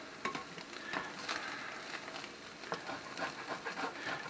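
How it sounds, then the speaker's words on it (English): Breakfast sizzles steadily in a frying pan while a utensil scrapes the browned bits off the bottom, making crisp clicks and scratches over the constant hiss, close up. "Scrape the bottom of that pan there, get all them good ones off the bottom there."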